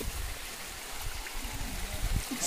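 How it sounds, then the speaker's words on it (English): Flowing stream water near a mountain waterfall, a constant soft rushing and trickling wash with no pauses, fairly quiet and close, with no voices. "Now we are approaching that waterfall."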